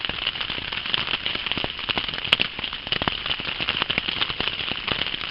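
Steady rain falling outdoors in a remote area with midges, a dense continuous patter of drops hitting surfaces, loud and close throughout with one sharper tap partway through.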